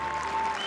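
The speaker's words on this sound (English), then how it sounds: "as the cheers and the clapping goes" Applause and cheering from a live audience at the 2017 Hearthstone HCT World Championship quarterfinals, a steady dense wash of clapping throughout with a faint thin tone running beneath.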